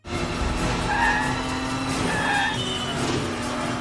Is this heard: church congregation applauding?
no